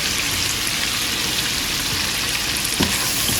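Flour is sprinkled into a pan of smothered chicken cooking down in its liquid, giving a loud, steady, rain-like frying hiss with a couple of brief bumps near the end and no voices.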